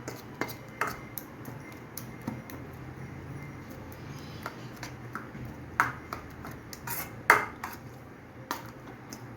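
Oats egg chilla batter worked in a bowl with a spoon, giving faint scraping under sporadic sharp clinks and taps against the bowl's side, quiet and close.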